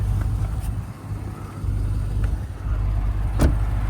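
A 2022 Dodge Charger Hellcat Widebody engine idles with a steady low rumble; a faint warning chime for the car being left running sounds once, nearly lost under the engine noise.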